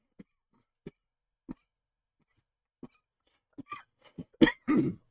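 Several short, separate coughs spaced out over a few seconds, quiet at first and ending with a louder, harsher cough and throat clearing.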